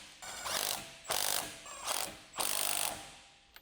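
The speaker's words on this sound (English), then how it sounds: "Use a 15mm deep socket with an extension bar and electric impact wrench" An electric impact wrench with a 15mm deep socket and extension bar rattles in four short bursts, tightening a drive shaft mounting bolt on a Jeep Wrangler JK during a lift spacer kit install, each burst loud and close.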